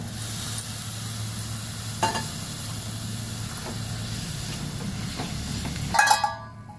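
Spice paste fries in a kadai for okra gravy, giving a steady low sizzle. Occasional stirring scrapes cut through it, and a louder clatter comes near the end.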